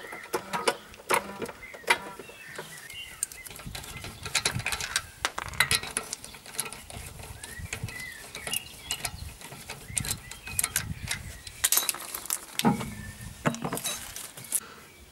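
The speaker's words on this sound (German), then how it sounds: "Und als allererstes bocken wir mal das Fahrzeug ein bisschen auf und machen das Rad runter." Jacking up a BMW E46 and taking off a wheel, with metallic ratcheting, clanks and tool rattles coming in irregular close bursts throughout, no talk.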